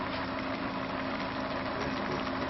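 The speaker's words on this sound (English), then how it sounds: "We'll immediately notice the engine go up, start to go faster." A motor-driven generator wheel runs with its coils unhooked, producing a loud, steady mechanical drone with a low hum that holds an even pitch throughout, with no voices.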